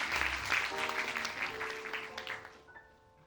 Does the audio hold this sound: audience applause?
yes